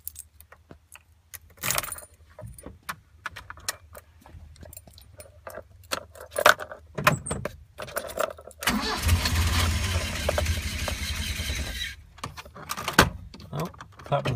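A Ford Econovan engine cranks and starts after a starter motor service, with keys jangling first, then a rough rumbling catch that runs for several seconds before settling, recorded close with some light movement around it.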